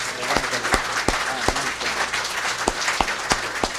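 Steady applause from a church congregation, a dense wash of clapping with a few sharper claps standing out, continuing throughout.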